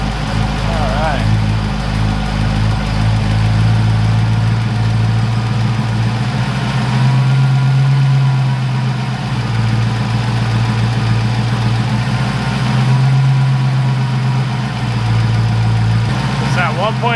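A Ford Fox-body car engine idling steadily after a carburetor adjustment, a loud continuous low rumble with slight rises and falls in speed, close up and without talk.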